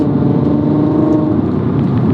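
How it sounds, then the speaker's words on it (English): Naturally aspirated VR6 engine of a VW Golf MK5 R32 heard from inside the car, a loud, steady, droning engine note holding at high RPM. "The cool thing about the naturally aspirated VR6 is that you need to push it up in the RPMs to actually make some speed."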